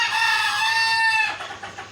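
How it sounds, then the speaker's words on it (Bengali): An Egyptian breed chicken on a laying farm gives one drawn-out, ringing call for about a second, close and fairly loud, then it trails off into quiet farm background with no talking. "এটা মিশরীয় জাতের একটি মুরগি।"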